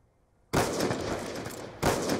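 Gunfire in the Call of Duty: Black Ops 2 video game, a dense, loud burst of shots starting abruptly after a brief quiet, with a second sharp burst near the end.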